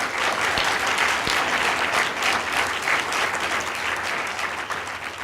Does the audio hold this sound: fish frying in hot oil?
no